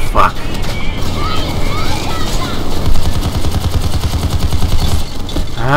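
Gunfire in the video game PayDay 2, a dense, loud run of rapid shots rattling almost nonstop across the whole stretch, with muffled game noise and voices underneath.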